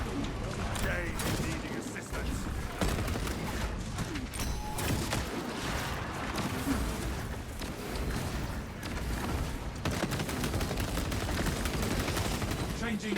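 Dense, continuous gunfire in the Space Marine 2 video game, with bolt-rifle bursts and explosions layered over battle noise for the whole stretch, and voices calling out beneath the din.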